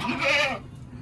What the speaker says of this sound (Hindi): हमारे बकरी का बच्चा, जिसका नाम है रुस्तम।